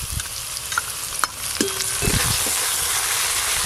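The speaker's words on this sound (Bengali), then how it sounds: "এই যে আদা রসুন পেঁয়াজ একটু লাল লাল করে ভেজে নিয়েছি" Ginger, garlic and onion sizzle in a pan over a clay stove, with scattered scrapes and knocks of a utensil stirring them, close and moderately loud.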